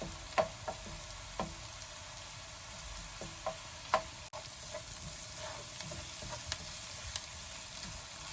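Beef dendeng cooking in a pan over low heat, giving a steady soft sizzle with scattered faint pops and occasional utensil ticks, close and fairly quiet throughout with no talk.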